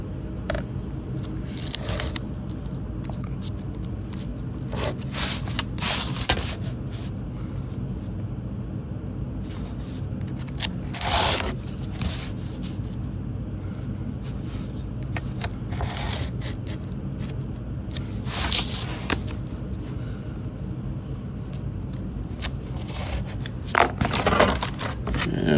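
A sharp blade cuts through wooden segments for a six-pointed star, steady grinding and crunching strokes running throughout with several louder, brief bursts of cutting, close and fairly even.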